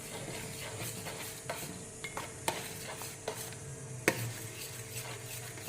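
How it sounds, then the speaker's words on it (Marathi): Saffron threads stirred into thickening rabdi in a pan: quiet, close scraping and clinking strokes of a spoon against metal at an uneven pace over a low simmering hiss, no talk. "आता मी यामध्ये केसरचे धागे टाकून घेते आणि ते चांगलं हलवून घ्यायचं"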